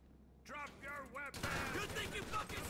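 Gunfire in the video game GTA 5, a burst of rapid shots breaking out mid-clip over someone talking excitedly, loud and dense after a quieter spoken opening.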